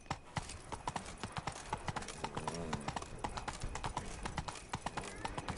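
Horse Roach's hooves clip-clop in a steady, close rhythm in The Witcher 3, loud and continuous with a few faint voice sounds mixed in.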